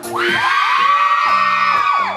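A concert crowd at an outdoor venue in Chiang Mai, Thailand cheers and shouts loudly and steadily, with high whoops rising over music held under the noise, continuous for a couple of seconds.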